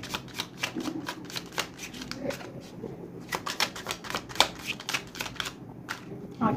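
A deck of cards being shuffled up close, with a rapid run of crisp riffling bursts and flicks that repeat steadily and fairly loud throughout.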